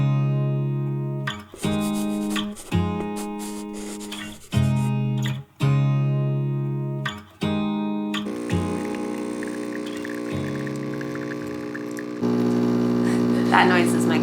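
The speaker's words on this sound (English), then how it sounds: "That noise is my coffee maker." A coffee maker hums and gurgles steadily, with a droning electric tone and bubbling that grows denser toward the end, while a person talks intermittently over it.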